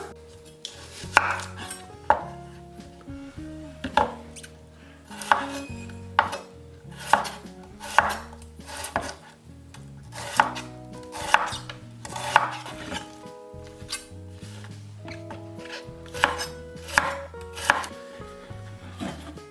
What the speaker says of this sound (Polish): Zaczynamy od krojenia cebuli. Cebulę pokroję w piórka.